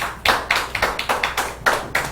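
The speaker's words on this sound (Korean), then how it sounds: "자, 박수 하세요." Hands clapping in unison, a small group striking about nine sharp, evenly spaced claps at a steady rhythm, close and clear with no talk over them.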